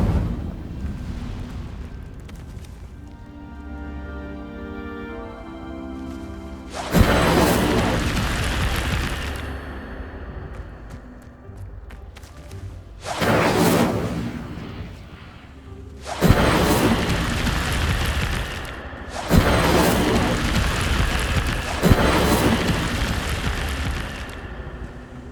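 Incendio fire spell casts in Hogwarts Legacy go off as a series of loud, broadband whooshing bursts, about five of them spaced several seconds apart, each flaring suddenly and then roaring briefly over a steady low game backdrop.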